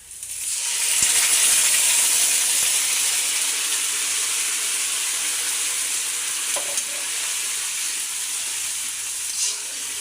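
Cumin paste and onion paste hit hot oil, starting a loud, even hiss that swells and holds at close range for several seconds, with a couple of faint clinks and no voices.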